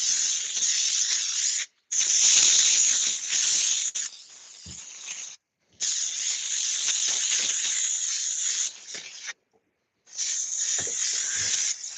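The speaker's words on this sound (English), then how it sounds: "you can probably hear the rain outside." Rain falls outside a farm workshop as a steady, bright hiss that fills most of the stretch, broken by a few brief near-silent gaps.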